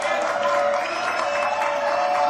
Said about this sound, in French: Applaudissements, s'il vous plaît, pour son one-man show au blanc manteau.